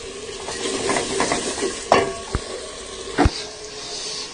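Boiled black and white chickpeas are stirred and fried in a pan under a steady sizzle, with a few sharp spoon knocks against the metal.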